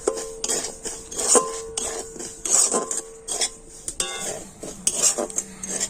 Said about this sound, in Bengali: এই খালি কড়াতে আমি সুজিটা দিয়ে দিচ্ছি এখন সুজিটা কিন্তু আমি একটু হালকা করে ভেজে নেব